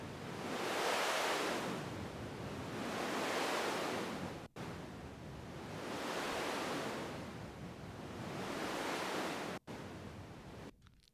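Synthesized sea waves built as a sound effect in Studio One, with a sine-wave modulation sweeping a filter cutoff: broad rushing surf that swells and recedes in slow cycles, loud and steady, with two abrupt brief dropouts and no voices.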